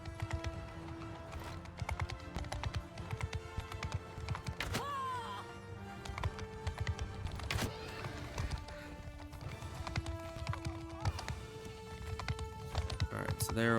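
Horses gallop across open ground in the Mount and Blade II: Bannerlord video game, a steady drumming of hooves with clashes and shouts, heard under continuous game music and someone talking.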